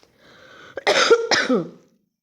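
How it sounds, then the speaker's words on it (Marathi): One person coughs nearby, a rough throaty burst in two or three quick hacks after a short breath. "खोकला आला येऊ द्या"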